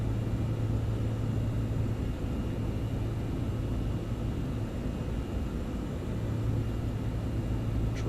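Steady, unbroken engine rumble inside the cockpit of an iniBuilds Airbus A330-200 in Microsoft Flight Simulator 2024, a dense low drone with a faint hum riding on top, constant and loud throughout with no voices.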